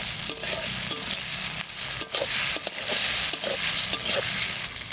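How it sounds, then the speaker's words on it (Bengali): Dried red chillies, bay leaves and five-spice seeds fry in hot oil for tempering, a steady loud sizzle broken by sharp scrapes and knocks of a stirring utensil. "ফোড়নে দেবো শুকনো লঙ্কা, তেজপাতা, পাঁচফোড়ন, আমরা,"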